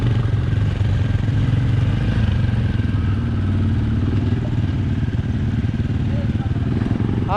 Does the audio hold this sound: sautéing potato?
no